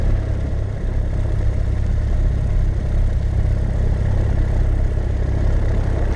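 A small airplane engine runs at a steady, loud idle after starting, a continuous low rumble with clatter and no voices.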